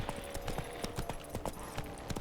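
Horses' hooves clip-clop in The Witcher 3, a quick irregular patter of faint hoofbeats over a steady game background.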